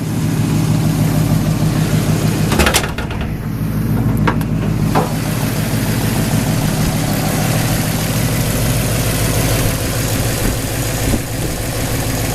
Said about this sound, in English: Give you a look under the hood while the engine's running.